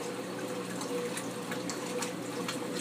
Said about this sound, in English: Now we're on the rinse cycle.